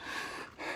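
A heavyset man puffs and pants at a fishing lake, a brief, close burst of heavy breathing with a short pause between breaths.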